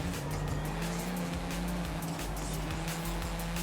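Mazda RX7 tires squealing as it drifts in Forza Horizon 5, a steady loud screech over a continuous engine drone that holds for the whole stretch, with no talk.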